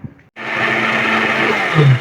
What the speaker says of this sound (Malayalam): മിക്സി ഉള്ളതുകൊണ്ട് മിക്സിയിലേക്ക് നമ്മൾ പോവാം